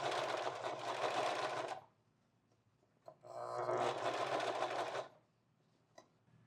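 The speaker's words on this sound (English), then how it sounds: "I'm going to run a seam all the way around from one side to the other" A sewing machine runs a seam around a tailor's ham in two steady bursts of rapid, close, loud stitching, with quiet pauses and small clicks between them and no talking.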